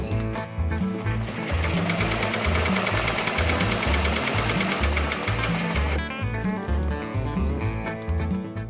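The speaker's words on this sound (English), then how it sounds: "Let's go ahead, let's continue embroidering." A multi-needle embroidery machine stitches a leather appliqué patch with 3D puff onto a cap, giving a loud, steady rapid mechanical chatter and thump throughout, with a slight shift in tone partway through.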